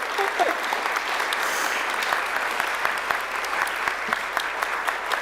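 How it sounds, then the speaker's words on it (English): An audience claps steadily as middle school students walk in at a women's achievement induction ceremony, the applause dense and continuous with a few sharper claps standing out and a voice faintly heard beneath. "Y'all, let's clap for them as they come in."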